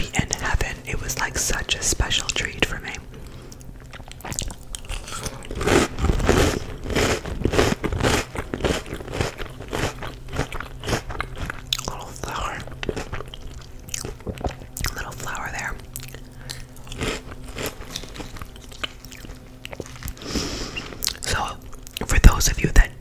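Crunchy Trix cereal is chewed close to the microphone, with repeated crisp bites and moist crunching under soft whispered talk throughout.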